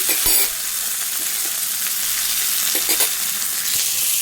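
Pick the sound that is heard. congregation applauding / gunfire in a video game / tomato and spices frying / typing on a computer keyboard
tomato and spices frying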